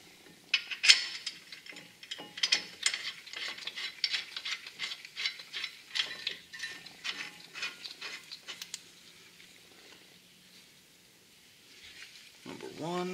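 Ratchet wrench tightening caliper bracket bolts on a 2018-2023 Toyota Camry TRD during a brake rotor upgrade, a close series of rapid clicking ratchet strokes, then a pause and faint mechanical sounds.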